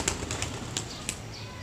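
A quick burst of wing flaps, several sharp beats in fast succession, close by, as a pigeon takes off.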